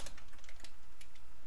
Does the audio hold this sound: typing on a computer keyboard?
yes